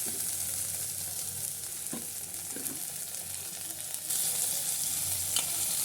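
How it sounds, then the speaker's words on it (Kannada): Onions fry in a pan for a paneer mixed vegetable curry, a steady close hiss and sizzle with a few faint stirring scrapes and no talking. "ಈರುಳ್ಳಿ ಚೆನ್ನಾಗಿ ಫ್ರೈ ಆದಮೇಲೆ, ಇದು ಈರುಳ್ಳಿ ಚೆನ್ನಾಗಿ ಫ್ರೈ ಆಗಬೇಕು."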